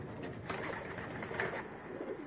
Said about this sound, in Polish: To są po moich superlotniczkach z gołębi lotowych, ostatnie młode jeszcze.